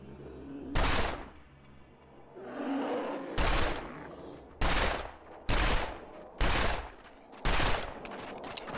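Gunfire in The Long Dark video game: one sharp shot, a lull of rumbling noise, then five loud shots at a steady rhythm of roughly one per second, close and unaccompanied by talk.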